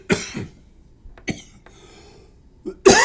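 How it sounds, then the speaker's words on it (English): Several harsh coughs come in short bursts with quiet gaps between them, close and loud, ending in one strong cough. "I'm sorry about the coughing."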